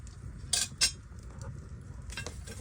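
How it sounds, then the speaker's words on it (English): A metal lid comes off a cornbread pan with two sharp clinks close together, then a quieter scrape and a later rattle over a low background hum. "We're gonna get that old lid off and look at it"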